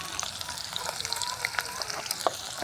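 Onion sizzles in hot oil with dried red chili and cumin seeds, a steady crackling fry with scattered sharp pops and spits, close by.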